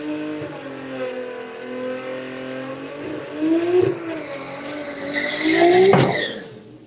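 A tuned Toyota Supra from EKS Tuning drives hard on a test day, its engine revving and rising through gears, loud and close, with a sharper, brighter burst near the end before it fades.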